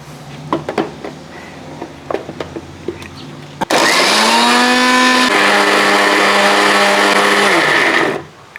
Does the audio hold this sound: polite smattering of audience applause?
no